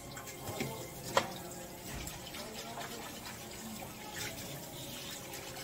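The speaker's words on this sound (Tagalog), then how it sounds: "Naghuhugas lang ako sa kitchen" Tap water runs steadily into a kitchen sink during washing up, with soft splashing and a few small clinks of dishes close by.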